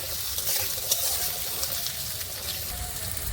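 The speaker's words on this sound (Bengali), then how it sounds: "আলুগুলো ভালোভাবে ভেজে নেব।" Cut potatoes frying in oil in a wok, giving a steady, even broadband sizzle with a few faint clinks, close and alone throughout.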